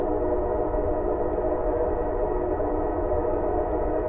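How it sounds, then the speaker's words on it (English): A train rolls by out of sight somewhere below a wooded hiking trail on the Palmetto Trail's Enoree Passage, a steady distant rumble with a faint horn-like tone, holding even throughout with no one speaking. "there sure is a train going down through there"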